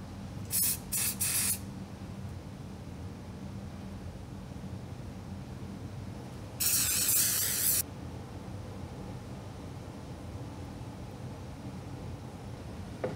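CA glue accelerator sprayed from a pump bottle while assembling a maple bassinet: a few quick hissing bursts early on, then one longer spray about a second long, all fairly close over a quiet background.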